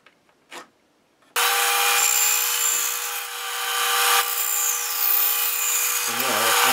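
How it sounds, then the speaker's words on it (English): A bandsaw cuts out a wood piece for a mechanical bank, a loud steady whine and rasp that starts abruptly after a brief knock, holds for several seconds, then winds down at the end. "cut it out on the bandsaw"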